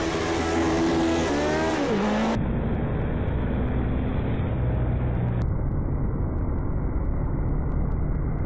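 Race car engines in a racing video game scream at high revs, with a sharp downshift-like pitch drop and a steady loud, buzzing roar that continues without pause.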